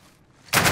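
Gunfire in Call of Duty Warzone erupts abruptly after a quiet moment, a loud, dense burst of rapid shots that continues to the end.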